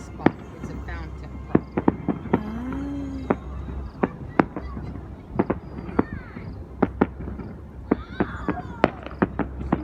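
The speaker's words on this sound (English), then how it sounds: "the fireworks are exploding" Fireworks burst outdoors at a display with a fountain firework, giving sharp irregular bangs and crackles spread across the clip over a steady background rumble, with occasional whistling rises and people talking between the explosions.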